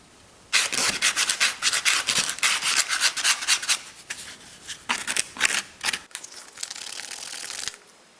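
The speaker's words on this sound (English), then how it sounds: "a little bit of sanding on these rough edges, and then it'll be done" Close, scratchy sanding strokes on a rough edge of a recycled plastic shampoo bottle, coming in quick uneven bursts with brief pauses, then a steadier rasp near the end.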